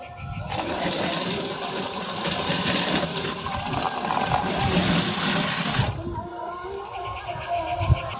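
Water gushes strongly from a tap for several seconds to make up a pesticide mix for potato plants, then cuts off abruptly, leaving quieter dripping and faint room sounds.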